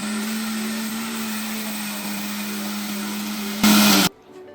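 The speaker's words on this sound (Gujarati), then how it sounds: "હવે મિક્સરમાં ગ્રાઇન્ડ કરીશું" A mixer grinder whirs steadily at close range, grinding soaked lentils with curd and a little water into handvo batter, a constant loud motor drone that surges briefly near the end before cutting off.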